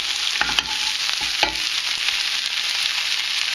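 Mushrooms soaking up oil in a pan for a chicken madras curry are stirred, giving a soft continuous sizzle with a few scrapes and taps of the spoon, close and steady, with no voices.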